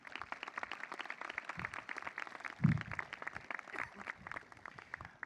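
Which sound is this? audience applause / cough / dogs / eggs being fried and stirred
audience applause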